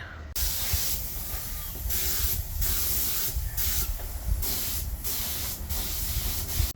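A spray gun coats a primed 2005 Jaguar S-Type car part with paint. Loud, continuous hissing comes in bursts, each one broken by a short pause.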